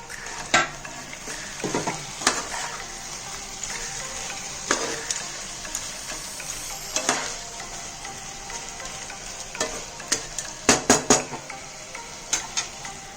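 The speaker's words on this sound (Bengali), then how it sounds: "আদাটা দিয়ে একটু নাড়াচাড়া করে আর একটু চাপা দিয়ে দেবো।" Boal fish with julienned ginger is stirred in a pan over a soft background sizzle, with repeated sharp clinks and scrapes of the utensil against the metal that cluster toward the end.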